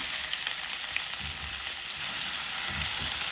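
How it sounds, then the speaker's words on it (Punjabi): Two finely chopped onions fry in a pan for a Punjabi green pea curry with cashews and almonds, giving a continuous close sizzle with occasional soft stirring knocks and no talk. "ਹੁਣ ਇਸ ਵਿੱਚ ਦੋ ਬਰੀਕ ਕਟੇ ਹੋਏ ਪਿਆਜ਼ ਪਾ ਦੇਵਾਂਗੇ"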